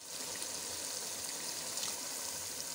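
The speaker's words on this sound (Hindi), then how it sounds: "ये मैंने सिरका डाल दिया आधा कप" Half a cup of vinegar pours into a pot of chicken, a steady soft trickling wash of liquid, faint and continuous with no talk.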